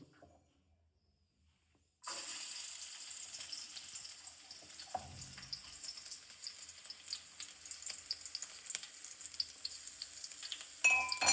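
After two seconds of silence, chopped garlic bursts into a loud, steady sizzle in hot oil, crackling continuously close by.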